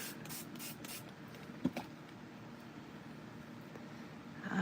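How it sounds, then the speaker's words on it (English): Shaded lilac ink is spritzed onto a papercraft project: a few quick, faint spray bursts at the start, followed by quiet rubbing and handling noises and a soft click. "We'll put this on here, a little spritz."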